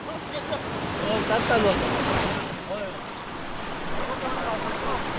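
Floodwater from the first monsoon rain surges through a Konkan village in a dense, continuous roar, loud and close, with faint voices partly buried beneath.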